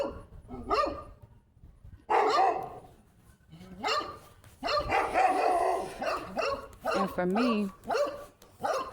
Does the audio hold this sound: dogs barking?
yes